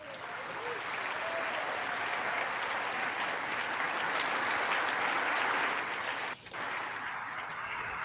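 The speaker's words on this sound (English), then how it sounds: "They clap for so long," Sustained audience clapping during a political speech about defense forces, steady and dense across the whole stretch with a brief dip near the end, no talk over it.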